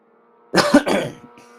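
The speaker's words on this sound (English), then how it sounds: "all of a sudden you get a cough, you get a frog in your throat" A single sharp cough with a throaty rasp, close and fairly loud, breaking a near-silent background and trailing off quickly.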